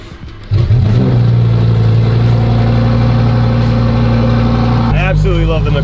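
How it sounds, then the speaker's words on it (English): A Lamborghini V10 engine roars loudly and steadily at close range after a brief quieter start, its pitch shifting near the end as the revs change; talk in the background is faint. "you cannot beat the sound, see buddy, of a V10, or for that matter, even really a V12 Lamborghini."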